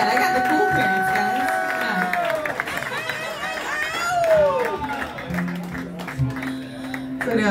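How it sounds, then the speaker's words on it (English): Concert audience clapping and cheering with crowd chatter, irregular applause mixed with voices and a few whistles. "Give a big round of applause for them back there."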